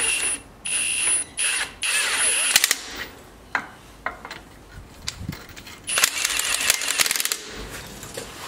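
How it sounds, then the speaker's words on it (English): Short bursts of a pneumatic impact wrench snugging lug nuts on a 2005-2010 Jeep Grand Cherokee during a rear brake job, buzzing and rattling, several separate pulls with pauses between, close by, amid clanking metal and shop noise. "Just going to use the impact and start to snug these up a little bit."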